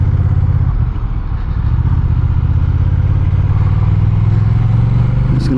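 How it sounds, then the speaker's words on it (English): Honda Rebel 1100 DCT automatic motorcycle pulling away, a close steady engine drone that climbs in pitch as it accelerates, with a brief dip early on like a gear change. "Just gonna let her go through the gears."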